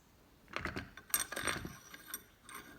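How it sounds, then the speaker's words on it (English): Two long cap screws are loosened and removed from the back of a John Deere 60 starter, giving a short series of close metallic clicks, scrapes and clinks. "Okay, so I take these 2 cap screws loose out of the back."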